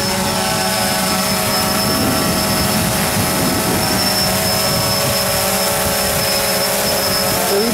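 A DJI Phantom 2 Vision quadcopter fitted with T-Motor MN2214 motors, one slightly stiff, hovers close by in wind, giving a loud, steady, high-pitched propeller whine with constant tone and no talking.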